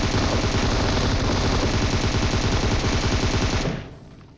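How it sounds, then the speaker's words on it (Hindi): Heavy continuous gunfire in a battle royale video game, a loud dense automatic burst with rapid, steady repeated shots that fades out abruptly near the end. "मेरे पे फायरिंग आती है भाई तगड़ी"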